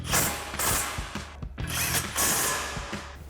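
A ratchet wrench with a 15mm swivel socket tightens bolts on a 2005-2010 Mustang front strut bracket, giving loud, close runs of rapid clicking in two main bursts with a short pause between.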